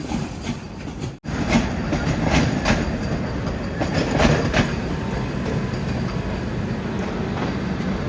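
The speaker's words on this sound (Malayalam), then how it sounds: "ജോളാർപേട്ട ജംഗ്ഷൻ റെയിൽവേ സ്റ്റേഷനിലേക്ക് ഇതാ നമ്മുടെ ട്രെയിൻ എത്തിക്കൊണ്ടിരിക്കുകയാണ്" The Kerala Express rolls steadily toward Jolarpettai Junction, a loud continuous rail rumble with faint rhythmic wheel clicks and a brief dropout near the start, heard from inside the coach with no talking.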